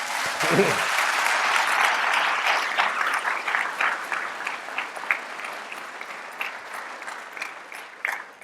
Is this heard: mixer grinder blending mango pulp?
no